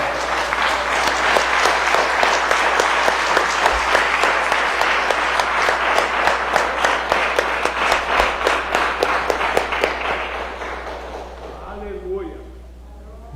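Loud congregation clapping at an evangelical church service with an evangelist, a thick crowd of hands beating in rough rhythm that fades out near the end as a voice begins speaking.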